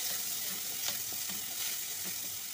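Chopped onions and a tomato fry in a pan with a continuous close hiss and crackle, broken by a few scraping stirs of a spoon, all fairly quiet with no talking.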